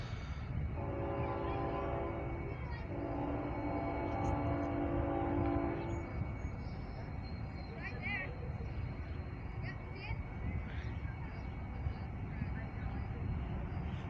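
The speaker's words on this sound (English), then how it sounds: "it's a CSX intermodal train." A CSX intermodal freight train with a distributed power unit rumbles past heading west with a low, continuous roar, a horn sounding early on, while voices talk over the noise.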